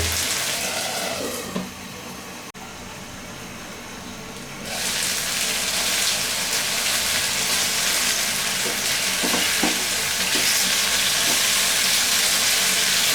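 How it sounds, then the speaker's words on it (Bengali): Boneless chicken tikka kebab pieces fry in spattering oil, a loud continuous sizzle that dips briefly and then swells fuller and steadier for the rest of the stretch, with no voices. "এইভাবে বাদামি করে ভেজে তুলব তেল ছিটবে সেজন্য ঢাকা দিয়ে দিলাম"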